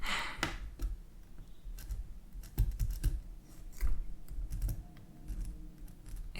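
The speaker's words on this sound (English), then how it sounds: "I'm kind of doing my best to write with this pen" Pen scratching and tapping on paper, close and soft, in irregular short strokes with small clicks, no talking.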